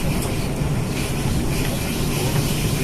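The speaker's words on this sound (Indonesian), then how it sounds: "melihat kereta lewat" A train passes on the line near Universitas Indonesia station in Depok, West Java, a loud, steady, close rumble of wheels and carriages with no voices.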